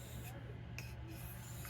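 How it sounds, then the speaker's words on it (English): A knife blade is drawn across a sharpening surface in a few quiet, short rasping strokes, faint and close, with brief pauses between passes. "You can sharpen a knife, any knife,"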